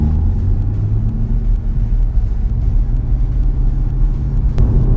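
Steady, deep engine rumble from a Chevrolet Camaro ZL1 1LE with a brand-new clutch while driving, a continuous low drone inside the car with no break.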